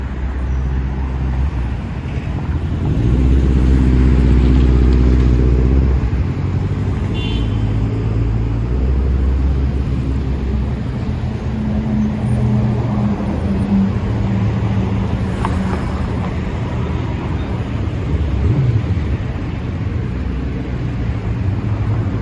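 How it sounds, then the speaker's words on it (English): An unmarked police car passes along a Lower Manhattan street, swelling briefly out of a constant wash of city traffic and engine rumble. "that was an unmarked cop car there"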